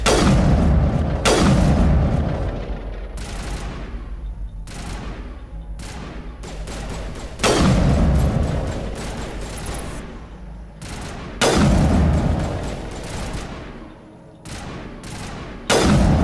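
Repeated heavy gunfire and booming blasts in Mass Effect come in several dense bursts spaced a few seconds apart, each loud and close with a decaying tail, no voices heard.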